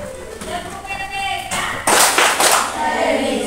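Children in a primary school class clap a patterned rhythmic class clap, loud and close, with sharp bursts toward the end amid classroom chatter.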